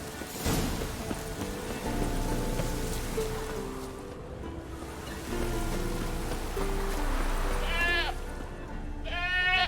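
A goat in The Witcher 3 bleats a few times in quick succession near the end, with a soft patter of rain and low ambient game music running steadily underneath.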